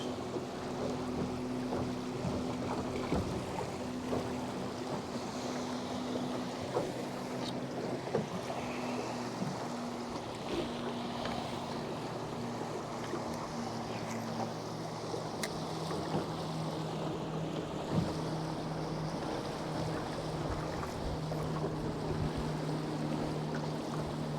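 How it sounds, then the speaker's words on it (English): Steady wind blowing across open water from a fishing boat, with a continuous rushing hiss, low engine or water hum and light lapping, no voices. "Wind picked up"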